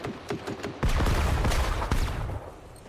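Gunfire in the video game Generation Zero, a dense burst of rapid automatic shots after a few scattered single cracks, loud and sustained for over a second before fading, no talking.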